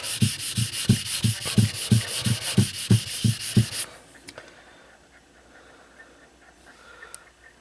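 A convex knife bevel is scrubbed back and forth across a sharpening stone in about a dozen quick, even rasping strokes, close and clear, before the sound stops and only faint, quiet handling noises remain.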